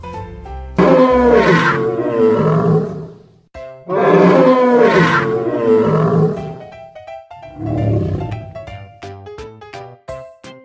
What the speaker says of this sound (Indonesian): Yang ini dinosaurus teman-teman, warnanya biru.